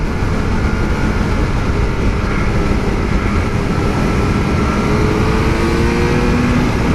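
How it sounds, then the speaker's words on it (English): Loud, steady Kawasaki Z900 motorcycle engine and road noise throughout, with a faint rising tone as a car overtakes nearby. "This car is trying to overtake."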